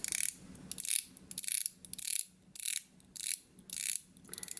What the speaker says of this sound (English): It's a unidirectional 120 click bezel. If we rotate that,